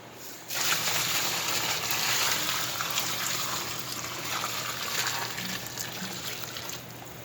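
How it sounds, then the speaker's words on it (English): Hot water poured steadily from a canning pot over tomatoes, a continuous close pouring gush that starts abruptly and keeps running at full strength for about seven seconds. "And just pour it over the tomatoes."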